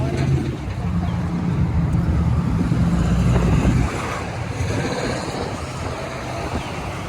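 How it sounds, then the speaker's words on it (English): Heavy, rumbling car traffic on a busy city street in Belleview, with a loud vehicle passing close by before the sound settles into a steady wash of road noise; voices talk now and then over it. "There's a lot of cars here."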